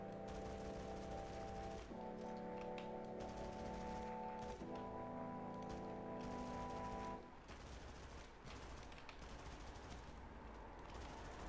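Sustained automatic gunfire from a jumpy, high-damage weapon in the Undawn survival shooter, a continuous loud burst lasting several seconds before dropping to a rougher, quieter rattle.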